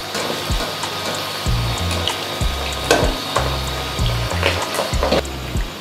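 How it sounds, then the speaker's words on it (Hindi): Potato balls for Aloo Manchurian deep-fry in hot oil with a steady bubbling sizzle, interrupted by a series of low thumps and clatters as more pieces go in. "अपने आलू के गोले फ्राई करेंगे"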